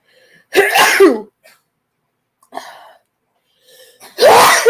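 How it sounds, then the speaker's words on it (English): Sneezing from one person indoors, two loud, close, explosive bursts with a softer breathy sound between them. "I had to sneeze."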